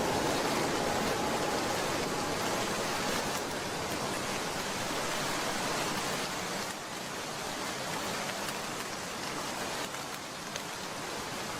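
A stormy night's rain in a cartoon makes a dense, even downpour hiss that continues throughout at moderate loudness, with no one speaking.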